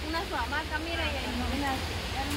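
River water rushes steadily beside a plot of rural land, a continuous broad wash of flow that sits beneath someone talking throughout.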